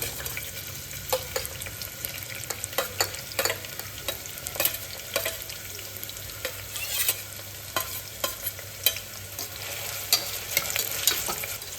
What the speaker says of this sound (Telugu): ఎర్రగడ్డ ముక్కలు దోరగా వేయించుకుందాం